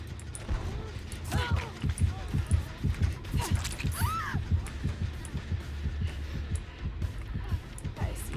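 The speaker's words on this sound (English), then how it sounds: "I see your heartbeat." A pulsing heartbeat from the Dead by Daylight video game thumps in a steady double-beat rhythm, loud and close, with other game sounds and brief tones layered over it.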